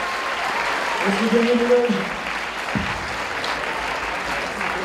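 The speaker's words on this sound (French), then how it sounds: "On peut l'applaudir bien fort." An audience applauds loudly for a few seconds, dense clapping that carries on steadily while someone speaks over it in French.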